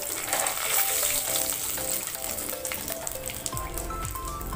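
Whole garam masala spices, cumin, dried red chilli and bay leaf sizzle steadily in hot oil in a pan, a dense, close crackling hiss that continues throughout with light stirring clatter and no voices.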